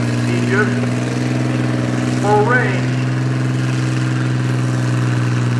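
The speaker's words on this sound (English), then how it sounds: "Tractor sounds like it's got good power" A heavy pulling tractor engine drones steadily and loudly throughout at a tractor and truck pull in Langford, New York, with someone talking over it on a loudspeaker.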